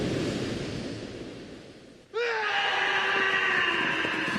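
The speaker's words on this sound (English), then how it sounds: "And now we hear you screaming" A character in the horror film Ring 0 breaks into a sudden, loud, sustained high-pitched scream after a rushing, breathy lead-in, and the scream holds steady to the end.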